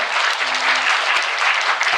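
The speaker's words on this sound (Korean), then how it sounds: "우리 서로를 위해서 한번 박수 한번 치면 좋을 것 같고요." Audience members at a community book concert talk event clap together, a dense steady burst of applause filling the room for the whole moment.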